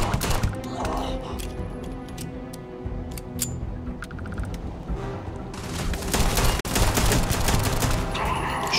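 Shotgun blasts ring out in the space game Starfield, heavy bursts of gunfire layered over a busy game soundscape, strongest in the final seconds with a louder run of shots near the end.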